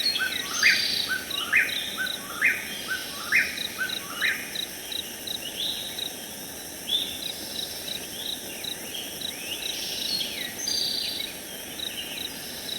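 An Eastern Towhee sings a repeated phrased song in a coastal plain forest, clear but somewhat distant, over a constant high insect drone and a dense low bed of forest ambience.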